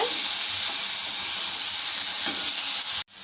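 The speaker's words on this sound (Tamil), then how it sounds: "ரெண்டு தக்காளி பழத்தை கட் பண்ணி வச்சுருக்கோம் உள்ளே சேர்த்துக்கலாம் தக்காளியோடு சேர்த்துட்டு கலந்து விட்டுக்கோங்க" Chopped tomatoes are stirred into frying spices for a savoury rice and green gram tiffin, producing a loud, close, continuous hiss and sizzle that cuts off sharply just before the end.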